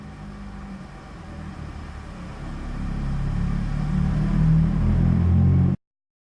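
A Dodge Dakota engine rumbles low and steady, growing slightly louder as it runs short of fuel, then cuts out abruptly into silence.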